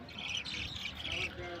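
A budgerigar in a cage chirps and squawks in quick, bright bursts while eating leafy greens with its chick, close to the microphone over a faint background hum.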